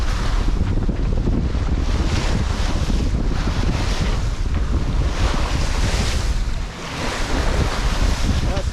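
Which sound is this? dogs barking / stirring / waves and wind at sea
waves and wind at sea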